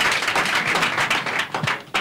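An audience claps for Governor Aregbesola during a Nigerian radio call-in programme, a brief burst of dense applause lasting about two seconds, close and fairly loud.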